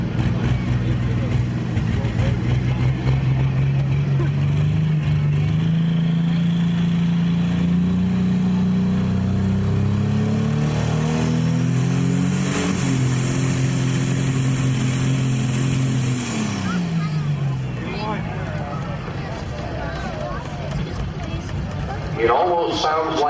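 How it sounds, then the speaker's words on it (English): An International 1066 pulling tractor strains at a Pro Stock tractor pull in Wilmington, its engine laboring loudly with rising and falling pitch for about seventeen seconds before easing off, under steady crowd and announcer noise. "It almost sounds like it's laboring against itself"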